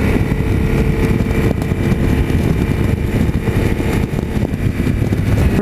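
Triumph Thunderbird Commander motorcycle under way, a steady, loud engine drone with road and wind rumble that runs unbroken from start to finish, with no voices.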